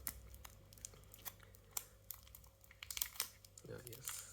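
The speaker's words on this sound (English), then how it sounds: "So let's remove this plastic." Plastic film is peeled and crinkled off a new Samsung Galaxy Z Flip3 during an unboxing, with soft scattered crackles and ticks over a low steady hum.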